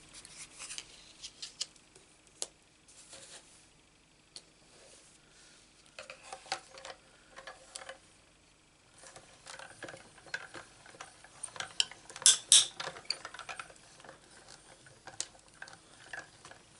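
A die-cutting machine cuts a paper craft die with quiet, irregular mechanical ticks and clicks that grow busier and louder toward the end, against a near-silent room.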